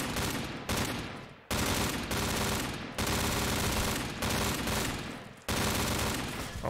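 Sustained bursts of LMG machine-gun fire in a zombies shooter game, loud and close, with rapid continuous rounds broken by brief pauses.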